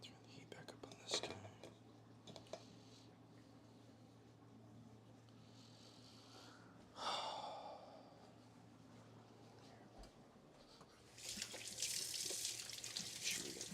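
Tap water runs into a kitchen sink while hands are washed, a steady hiss with a louder gush partway through and a strong splash near the end; faint low voices murmur underneath.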